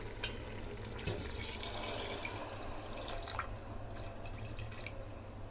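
Water is poured into a pot of chicken biryani rice, giving a continuous soft splashing and trickling stream with a few drips, fairly quiet over a low background hum.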